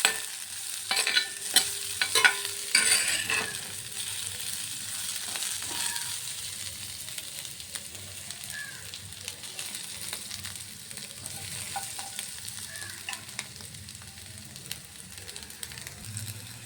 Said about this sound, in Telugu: ఇప్పుడు ఇందులో 4-5 వెల్లుల్లి రెబ్బలు కొంచెం ఫ్రై చేసుకుందాం